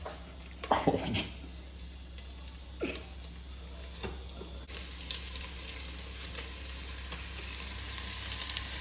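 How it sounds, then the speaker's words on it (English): Beef slices sizzle in hot olive oil in a frying pan during a cooking class, a constant crackling fry with a few sharp clatters of stirring early on, then a steadier, brighter sizzle. "we're gonna add our beef and let it cook for 1 to 2 minutes on each side"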